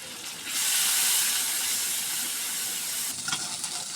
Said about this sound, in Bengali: রসুন বাটা জিরা বাটা ভাজা হয়ে গেছে